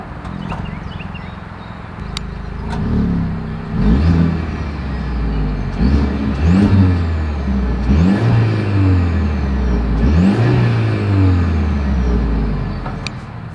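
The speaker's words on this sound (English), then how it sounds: "here is that exhaust clip" A 2024 Mercedes-Benz GLE 350's exhaust is revved repeatedly from idle, with four or five distinct rising-and-falling blips spaced a couple of seconds apart, close and clear with no talking.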